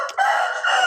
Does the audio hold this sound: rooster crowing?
yes